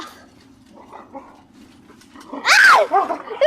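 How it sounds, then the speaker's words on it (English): Dogs scuffle in a fight at home, with a loud burst of close yelps and barks near the end following quieter whimpering and movement. "That's a big nutty dog."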